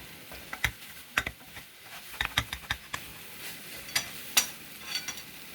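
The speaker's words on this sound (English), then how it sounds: "Stir till the egg gets cooked." Egg rice stirred and cooked in a pan gives quiet, scattered scrapes and taps from the stirring over a soft, low sizzle, with irregular clicks spaced through the stir.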